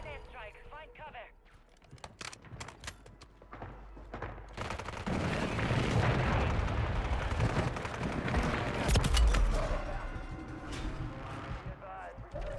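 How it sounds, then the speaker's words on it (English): An enemy precision airstrike in Call of Duty Warzone lands as a loud, sustained barrage of rumbling explosions and gunfire, building over several seconds with brief spoken game announcements heard early on. "Enemy precision airstrike. Find cover."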